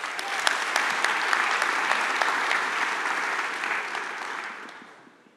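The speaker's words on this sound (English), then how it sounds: "Round of applause for him," Steady applause from a conference audience after a Python lightning talk, a dense wash of clapping that holds for several seconds before fading out at the end.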